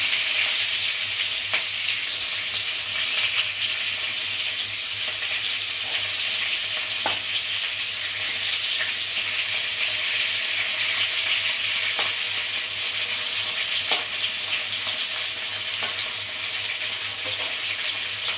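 Pieces of pointed gourd fry in a pan with a constant, bright, hissing sizzle, and occasional faint clicks of a utensil turning them, all close up and without voices.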